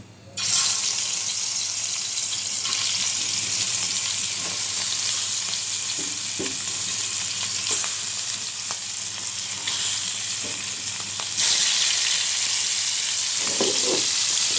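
Hilsa fish frying in hot oil for a curry with taro, a steady loud sizzle running throughout, with occasional soft clinks and stirring noises near the end.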